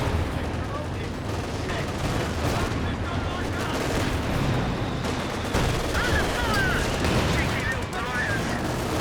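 Tank guns fire in a Company of Heroes 2 battle, booming through a dense, continuous wash of gunfire and explosions that stays loud throughout.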